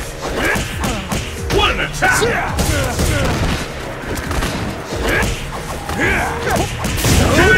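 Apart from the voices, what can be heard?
Hadouken fireball attack in video game Ultra Street Fighter IV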